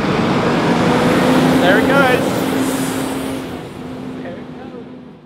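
A London 343 bus goes by on a street, a broad engine and road roar that is loud at first and then fades as it pulls away, with traffic noise and a voice talking over it.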